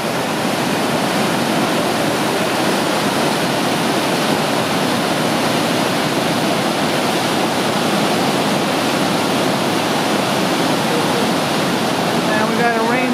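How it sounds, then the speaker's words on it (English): Water pours over a waterfall at Yellowstone National Park, a loud, steady, unbroken roar of rushing water that fills the whole scene. "Here's a view of the water as it goes over the falls."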